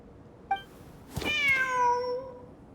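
A cat meows once in the video game Genshin Impact, a clear, drawn-out in-game meow heard close and alone against quiet background sound.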